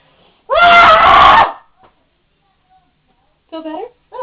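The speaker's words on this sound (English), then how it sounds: "Shall we give a relaxing scream?" A single loud, drawn-out human scream given as a relaxing release, about a second long and close, followed by silence and then brief talk.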